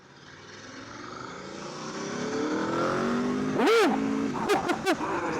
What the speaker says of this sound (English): That beautiful Aprilia sound is so nice.